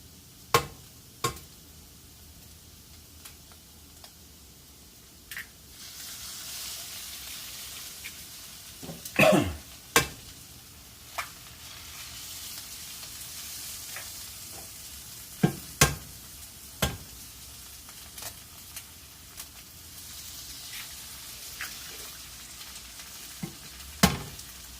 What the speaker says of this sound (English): I'm going to add 4 eggs to it, and then cook it up